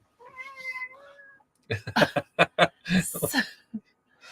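A cat in a van gives a drawn-out, wavering meow, then a person in the same room makes a burst of chuckling, choppy laughter-like sounds, all close and moderately loud.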